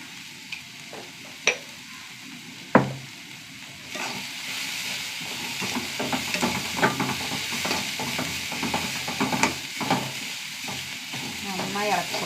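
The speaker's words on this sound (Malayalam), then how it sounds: "നന്നായി ഇളക്കി കൊടുക്കുക." A spatula stirs turmeric, garam masala, chili powder and salt in a frying pan, with a steady sizzle of hot oil under scraping strokes and a few sharp clinks against the pan, close and fairly quiet.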